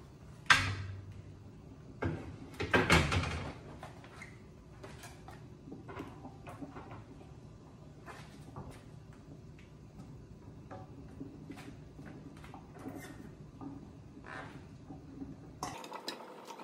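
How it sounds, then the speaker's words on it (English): Hot glass canning jars set one by one into a hot pressure canner, giving sharp clinks and knocks near the start, then quieter scattered taps and small clatters at close range with no talking. "We're putting hot jars into the hot canner."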